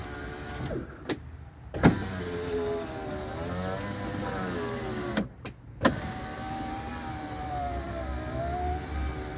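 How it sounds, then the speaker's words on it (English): A Rover 45's electric window motor strains as the glass travels, giving a steady whirring whine with shifting pitch, punctuated by a few close clunks near the start and middle; no one speaks. "There's a point at which the motor is still a little bit struggling. I can hear the motor."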